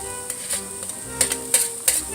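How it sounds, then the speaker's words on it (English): Finely chopped garlic, two cloves, dropped into a pan of cooked meat for Bolognese sauce, giving a soft sizzle broken by sharp spatula scrapes and taps, close by with no talk. "Now I'm going to put in 2 cloves of garlic"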